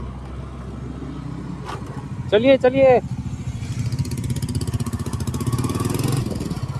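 Motorcycles on a group ride idle and pull away together, a steady rumbling engine drone throughout with a brief shout from a voice partway through.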